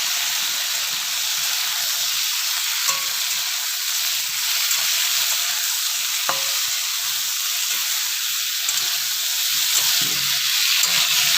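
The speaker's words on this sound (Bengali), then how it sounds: "অল্প একটু হলুদ দিলাম। এবার একটু ভেজে নেব।" Mixed vegetables seasoned with salt and turmeric frying in a pan give off a steady, bright sizzle with soft hissing, punctuated by a couple of light clinks of a utensil stirring, close up and without voices.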